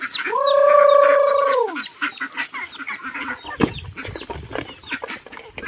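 Farmyard chickens and ducks calling while being fed, with one long drawn-out squawk near the start followed by a steady mix of clucks and quacks close by.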